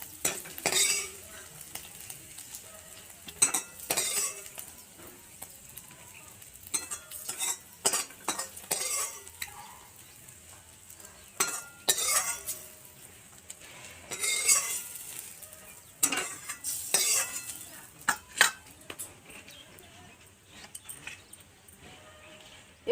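Fish fries in a pan while a spatula repeatedly scrapes and stirs, producing steady sizzling under irregular metallic clinks and scrapes throughout.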